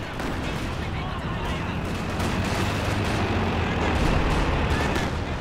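Booming howitzer artillery fire from a Company of Heroes 2 battle, heavy rumbling blasts rolling continuously under a busy wash of battlefield noise, with a voice talking over it.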